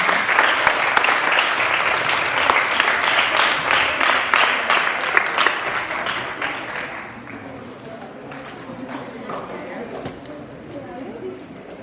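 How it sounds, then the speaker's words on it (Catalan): Loud applause from a school audience at a recitation event fills the room, sustained clapping that gradually thins and fades toward the end. "Per favor, un fort aplaudiment per a Laia."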